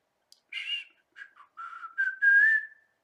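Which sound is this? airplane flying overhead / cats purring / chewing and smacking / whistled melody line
whistled melody line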